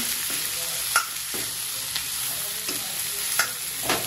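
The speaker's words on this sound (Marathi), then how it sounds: "आता मी सर्व मिक्स करून घेते" Chili chicken with capsicum is stirred in a pan over a high flame: a steady close sizzle of frying, broken by about six scraping spoon strokes at an uneven pace, with no voices.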